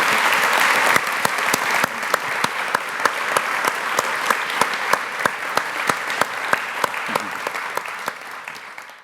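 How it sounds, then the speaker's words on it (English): Loud, close applause from a forum audience after a discussion of technology, politics and theology, with a dense clapping wash punctuated by sharp individual claps, gradually thinning toward the end. "So please join me in giving them both a round of applause."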